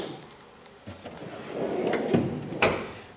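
A drawer on a Homak H2Pro 72-inch steel tool box slides open or shut, a close rolling scrape rising to a couple of sharp metallic clunks near the end.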